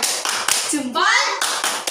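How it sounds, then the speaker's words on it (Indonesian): Children in a primary school classroom clap out a rhythmic thumb-clap cheer, a string of quick sharp claps in a steady beat, with a voice chanting over them. "Yuk kita tepuk jempol dulu yuk. Tepuk jempol."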